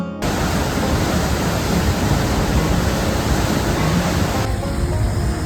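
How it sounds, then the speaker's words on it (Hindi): A loud, steady roar of rushing water fills the whole stretch, dense and constant like a river running close by, with no voices. "नदी के साथ साथ चलते हुए, और उसकी गरजती आवाज़ पूरे ट्रैक को एक अलग ही एनर्जी दे रही थी"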